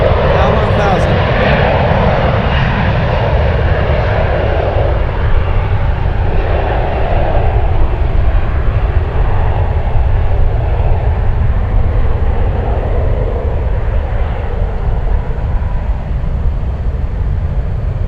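A Delta airliner rolls in after landing at San Francisco airport, its jet engines giving a loud, steady, close roar that fills the whole stretch.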